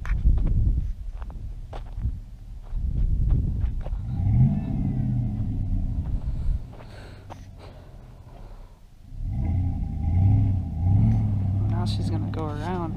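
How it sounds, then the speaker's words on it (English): A car doing a burnout, its engine revving and rumbling loudly in bursts with a pause in the middle, while people exclaim and talk nearby throughout. "She had to do a little burnout for you guys."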